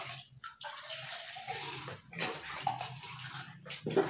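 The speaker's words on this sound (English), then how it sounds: "I will just fill it with water." Water gushes into a plastic container in bursts, a broad rushing flow that stops and restarts a few times, fairly quiet and close with no talking.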